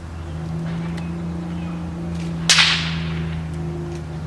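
A bullwhip cracks once, sharp and sudden, from a neighbor's yard, standing out against a steady low engine-like hum outdoors.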